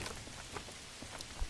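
Rain falling in Manor Lords, a dense crackling patter of drops on surfaces with scattered louder taps, steady and close for a brief moment.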